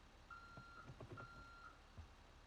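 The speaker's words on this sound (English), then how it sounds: "this truck is still as loud as ever" A truck's reversing alarm gives several evenly spaced beeps over a low engine rumble, fairly faint and steady, with no talking.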